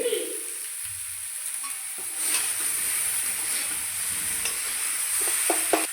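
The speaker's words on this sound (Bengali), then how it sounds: "মশলার সঙ্গে ফুলকপি কষিয়ে নিয়েছি" Cauliflower frying with spices in a pan gives a steady sizzling hiss that grows slightly louder partway through, with a few soft clicks of stirring.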